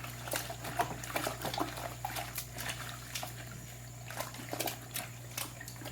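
Hot soapy felting water is handled by hand, giving faint, intermittent sloshes and small drips close by in a quiet room.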